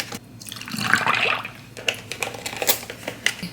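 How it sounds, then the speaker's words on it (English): Milk being poured for a matcha drink, a steady liquid trickle into a glass that swells through the first second and a half, followed by faint drips and small clinks in a quiet kitchen. "Next thing that we're gonna do is pour our milk."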